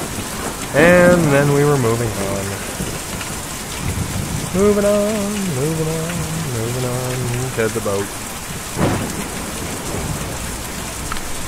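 Steady rain falls in the video game Kentucky Route Zero, an even hiss running the whole way beneath a voice that sings and talks, with one brief louder burst near the end.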